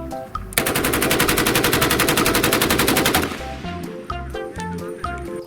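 Toy AK-47 rifle sound effect: a loud, rapid electronic burst of machine-gun fire lasting about three seconds, followed by a jingly tune from other toys.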